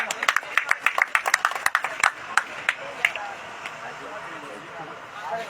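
A crowd at a village chaupal gathering in Chhapar breaks into scattered, uneven clapping that is strongest at first and then thins and fades into background murmur.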